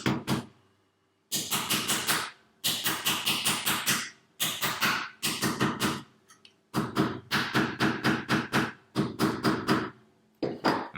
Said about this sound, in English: you can hammer those 4 points down just like you did before.